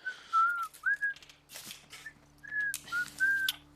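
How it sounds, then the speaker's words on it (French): Someone whistles a short, broken tune of bright notes in separate bursts with brief pauses, close and clear over a quiet hum, during a World of Warcraft Classic gaming session. "arrête de siffler"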